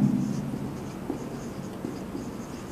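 A teacher writes an equation during a physics lesson, producing soft, scratchy strokes of steady writing up close over a quiet room with faint background noise.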